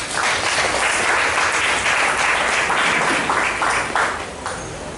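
Church congregation applauding in praise of Christ during a Spanish-language sermon, a dense, steady wash of clapping that fills the whole stretch and eases slightly near the end.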